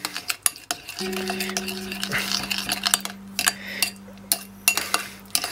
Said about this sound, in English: Now, stir all this in.